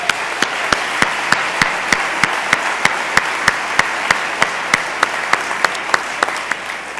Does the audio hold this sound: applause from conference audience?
yes